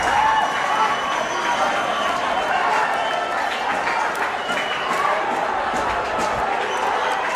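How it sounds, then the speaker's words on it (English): A large crowd roars and cheers steadily throughout at a Sepaktakraw World Cup match, dense and continuous with a commentator's voice mixed underneath. "listen to the crowd"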